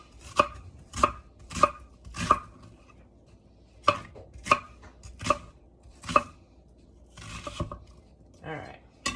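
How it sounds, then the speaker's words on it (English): A knife coarsely chops onion on a board for minestrone soup, giving a dozen crisp, close thuds in uneven bursts with short pauses between them, then lighter scraping at the end. "there's our onions and a nice coarse chop"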